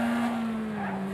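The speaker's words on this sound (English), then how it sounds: "That was a bad wreck if I've ever seen one." A long, steady tire skid squeal from a car in a racing video game, loud and sustained with a constant pitch over engine noise, no clear impact heard.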